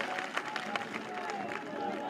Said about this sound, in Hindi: एक बार जोरदार तालियों से उसका स्वागत और अभिनंदन करें